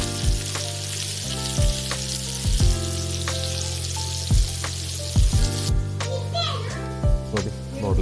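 Mackerel with dried chillies sizzles steadily in a frying pan, a continuous close hiss under a voice talking throughout, with occasional spatters and stirring sounds.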